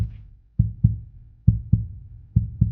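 Deep, muffled heartbeat thumps in paired lub-dub beats, three doubled pulses spaced steadily apart, loud and close with nothing else around them, used as a tense effect in a horror story.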